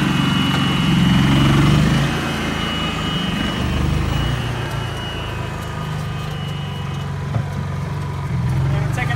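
A gas-powered generator on an electric golf cart revs up with a loud low engine drone that eases to a steady run.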